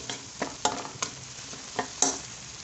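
Ginger paste frying with garlic and green chillies in a pan for a mixed vegetable and chicken sabzi: a quiet sizzle broken by a few distinct stirring scrapes.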